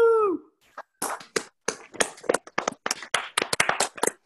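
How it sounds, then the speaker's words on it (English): Uneven, choppy clapping from participants on a video call during a virtual music class, bursts of hand claps and taps coming through separately with a brief whistle-like tone at the start. "Give Daun a big round of applause."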